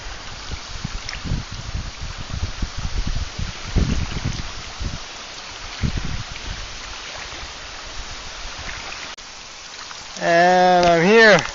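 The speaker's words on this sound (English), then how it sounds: "High winds, uncomfortable rain," Rain and strong wind buffet the outdoors in a stormy, exposed landscape, a steady broadband wash with gusty swells, loud and close; near the end a voice briefly speaks over it.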